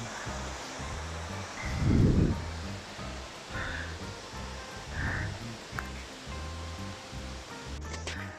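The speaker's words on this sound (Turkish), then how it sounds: "şöyle hidroelektrik santralden gelen su bu" Water pouring from the outlet of a hydroelectric plant into the Banas stream, heard as a steady broadband rush with a few louder surges, fairly distant and continuous, with no talking.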